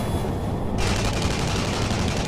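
Gunfire in the shooter Tribes Ascend, a dense continuous crackle of shots that turns brighter and harsher about a third of the way in, no talk.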